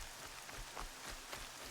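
Steady rain falls in the video game Horizon Zero Dawn, an even broadband hiss of drops hitting the surrounding ground that holds at a constant level with no voices over it.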